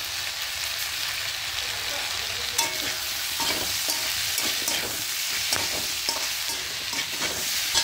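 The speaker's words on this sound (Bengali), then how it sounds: "ধনিয়া গুঁড়ো, জিরে গুঁড়ো, লঙ্কা গুঁড়ো আর হলুদ গুঁড়ো দিয়ে আবারও ভালো করে মিশিয়ে নেবো।" Coriander, cumin, chili and turmeric powders being stirred in a frying pan, a loud, dense sizzle with frequent spatula scrapes and crackles throughout.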